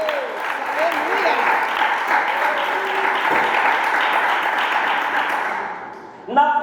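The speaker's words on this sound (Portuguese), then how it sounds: "palmas para o Senhor Jesus" A church congregation claps together in a dense, steady round of applause that holds for several seconds, thins out near the end, and is cut off by a brief tonal sound.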